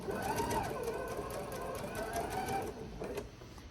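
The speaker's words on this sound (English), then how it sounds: "securing your stitches is just a back and forth motion. using your back stitch on your machine." Sewing machine running a back-and-forth back stitch to secure stitches on a reversible tote bag: steady rapid mechanical whirring and ticking close by, briefly easing near the end, with no talk.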